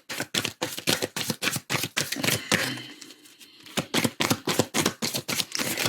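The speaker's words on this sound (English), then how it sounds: "If you ever need to fast forward when I'm shuffling, do feel free to do that as well." Oracle cards are shuffled by hand in a fast, even riffle of crisp papery slaps, a brief softer pause in the middle, then the rapid rhythmic flicking picks up again, close and clear with no talking.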